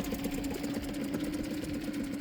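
An engine idles after having its fuel injectors cleaned and replaced, a steady, even mechanical hum with a fine rhythmic pulse, loud and close, running without a break.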